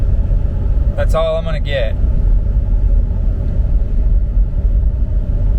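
A truck running in third gear with tow haul mode on and the torque converter locked, a loud, steady low engine rumble throughout, with a brief spoken phrase early on.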